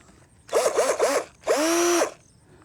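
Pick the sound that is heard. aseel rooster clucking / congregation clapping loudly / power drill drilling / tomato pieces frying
power drill drilling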